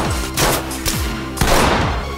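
Video game gunfire during a raid-mode match in a drug-lab house: several loud, close shots and bursts with echoing tails across about two seconds, no talking.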